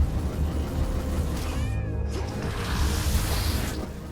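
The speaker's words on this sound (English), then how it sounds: "Find the kitty, send the kitty in." A cat familiar meows in the video game Hades 2, one drawn-out cry over the game's constant music and combat noise, moderately loud.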